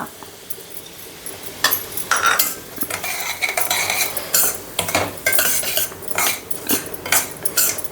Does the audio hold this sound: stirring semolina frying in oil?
yes